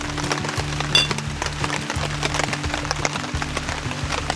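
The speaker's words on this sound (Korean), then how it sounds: "지금 때마침 그쳤던 비가 다시 내려가지고" Rain falls outdoors at a forest recreation campsite, a dense patter of drops hitting nearby surfaces with a faint steady hum beneath and no speech.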